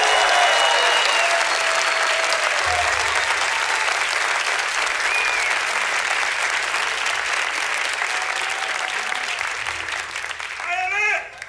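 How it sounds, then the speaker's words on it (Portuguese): An audience at a live instrumental music show applauds a drummer with sustained, dense clapping that stays loud throughout before thinning at the very end, a few voices murmuring underneath. "uma salva de palmas para ele"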